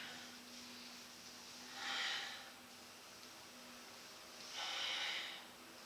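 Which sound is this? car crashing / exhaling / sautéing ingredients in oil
exhaling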